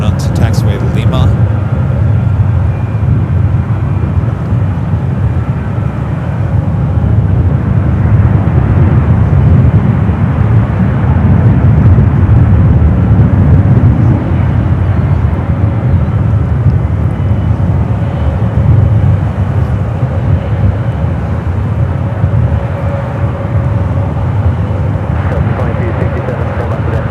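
An airliner arriving from LAX taxiing at San Francisco airport, a loud continuous low engine rumble and roar lasting throughout, with someone talking over it.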